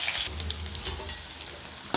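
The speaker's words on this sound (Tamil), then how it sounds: "நல்லா கடுகு பொரிஞ்ச உடனே பெரிய வெங்காயத்தை 1 கட் பண்ணி போட்டுக்கணும்." Sliced onion is added to hot oil with popped mustard seeds and sizzles close and loud, a continuous crackling fry with a brief clatter at the very end.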